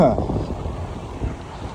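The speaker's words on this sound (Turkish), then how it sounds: "Rüzgarlı biraz ama" Steady outdoor wind buffets the microphone with low rumbling gusts, loud and continuous throughout.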